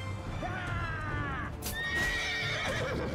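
A horse neighs during a battle in the video game Mount & Blade 2, a brief whinny amid hoof clatter and combat noise, with someone talking over it.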